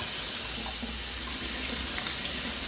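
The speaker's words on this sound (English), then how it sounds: "at the sink here, I'm just going to give my lettuce a really good wash" Tap water runs steadily into a kitchen sink while fresh garden lettuce is pulled apart and washed, a continuous close hiss and splash throughout.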